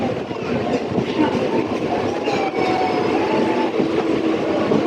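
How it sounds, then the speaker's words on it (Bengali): A non-AC local train rolls into Sat Beria halt on the Ranaghat–Bongaon line, a steady loud rumble with rhythmic clickety-clack of wheels and faint squealing tones throughout, heard from inside the carriage with no talk. "তো গাইজ আমাদের ট্রেন এখন সাত বেরিয়া স্টেশনে এন্টার করছে"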